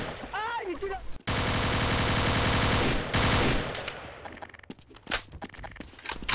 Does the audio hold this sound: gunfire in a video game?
yes